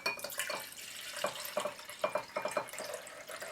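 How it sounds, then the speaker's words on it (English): A separated liquid layer pours from a bottle into a glass beaker in a lab, making soft, close trickling and gurgling glugs in quick bursts, faint and with no voices. "I decant the top layer into a beaker."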